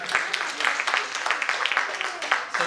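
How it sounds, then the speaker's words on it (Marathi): Applause at a school reunion, with a crowd clapping in dense, irregular bursts that carry on steadily at moderate loudness in a hall. "जरा जोरदार टाळ्या पुन्हा एकदा."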